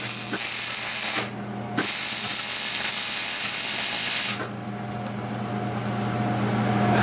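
Arc welding on a go-kart frame produces steady loud hissing crackle, broken by a brief pause, then stopping and leaving a quieter low electrical hum.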